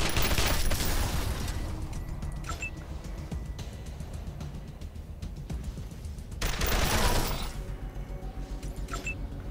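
Gunfire in the video game Wasteland 2, rapid crackling bursts of shots with a couple of sharp ringing hits, loud and dense at the start and again near the end, with no talking over it.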